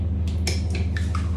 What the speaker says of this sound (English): Next stage is we are going to put some jam into the base. So I tend to use a teaspoon to do this.